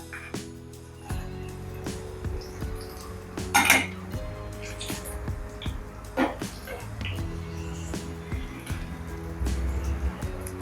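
Fried banana pieces are lifted from oil and moved onto a plate with a metal utensil, giving repeated light clinks and scrapes of cutlery against cookware, with a louder clatter partway through over a faint kitchen background.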